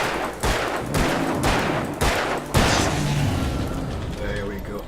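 Rapid bursts of gunfire from the video game Alan Wake, several loud shots in quick succession with sharp onsets around the half-second marks, followed by a lingering rumbling tail.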